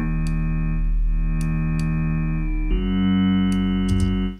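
A sustained tone from the Alchemy synthesizer with a deep, buzzing low fundamental holds steady, shifting pitch once midway, loud and up close.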